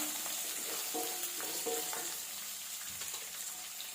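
Steady sizzling and crackling of onion frying in a pan, with occasional stirring scrapes, close and continuous with no talk.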